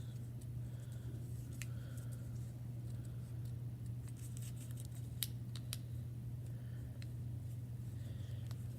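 Scissors snip through felt fabric while cutting out small eye shapes for a sewn felt monster craft, giving soft scattered clicks and crunches over a steady low hum, fairly faint and close.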